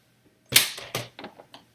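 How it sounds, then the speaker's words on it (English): A few quick snips of scissors cutting paper, close and crisp, in short uneven strokes. "I'm going to use scissors."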